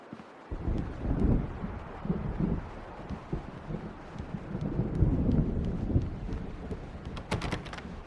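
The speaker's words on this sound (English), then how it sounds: "The storm is almost here." A thunderstorm in the horror game Alan Wake Remastered rolls in as deep, rumbling thunder under steady rain and wind, swelling and fading over several seconds.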